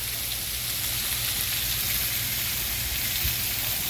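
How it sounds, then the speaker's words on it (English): Bacon sizzles steadily on a Blackstone flat-top griddle, a dense continuous crackle and hiss with low hum underneath, fairly close and even throughout. "Hear that sizzle."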